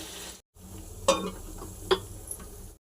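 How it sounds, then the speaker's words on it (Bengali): Water poured into a hot pan of sizzling onion, cumin and spices for a papaya and bata fish curry, a loud steady sizzle broken by a brief pause, with a couple of sharp clinks and stirring sounds. "জল দিয়ে দেবো"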